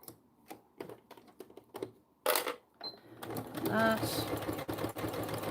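A sewing machine stitching a faux leather pouch, starting with scattered clicks and taps, then running in a fast steady whirring burst close by, with brief talk near the start.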